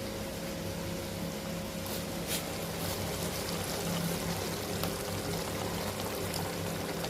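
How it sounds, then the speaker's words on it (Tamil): Coconut milk pours into a simmering dried fish curry, producing a steady, close liquid stream with a faint bubbling wash that runs unbroken throughout. "அடுத்து தேங்காய் பால் ஊற்றலாம்"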